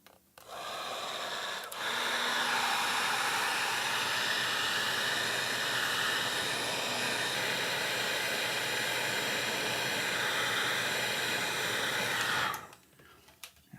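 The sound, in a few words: heat gun shrinking heat shrink tubing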